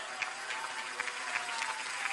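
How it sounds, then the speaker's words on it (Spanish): A rally audience applauds for migrant compatriots at a political event in Veracruz, a steady wash of dense clapping that fills the moment from start to finish, with a few sharper claps standing out. "Un aplauso"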